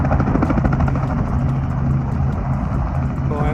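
A small tour helicopter at a helicopter spot in Rio de Janeiro gives a steady, loud rotor and engine drone that holds throughout at close range, with no talk over it.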